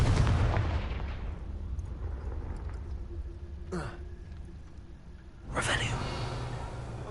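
Fiery Confringo spell blasts in the Hogwarts Legacy video game, two sharp booming bursts a couple of seconds apart that ring off into a muffled rumble.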